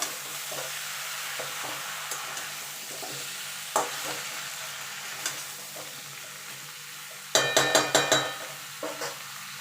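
Vegetables such as carrots and beans being stirred with a fish head in a pan, a low sizzle under repeated scrapes and knocks of a spatula, with a quick burst of sharp clatters near the end.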